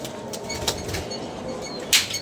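Pigeons at a rooftop loft stir about with soft wingbeats, a couple of brief flapping bursts standing out over a steady low outdoor background.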